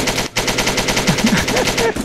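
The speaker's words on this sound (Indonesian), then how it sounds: "Lah Bambang, lu Bambang, lu nembak apa kocak?" Rapid automatic gunfire from an addon weapon in Minecraft rattles in a loud, close, continuous burst after a brief opening gap, with faint voice sounds mixed in.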